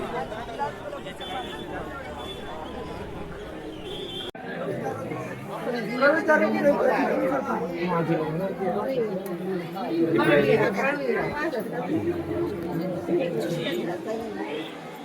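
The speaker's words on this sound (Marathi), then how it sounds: "आणि आपण आता गर्दी आहे बऱ्यापैकी" Dense crowd chatter of pilgrims at the Raje Shahaji gate of a pilgrimage temple, many overlapping voices forming a steady babble that grows louder partway through, with a narrator speaking over it.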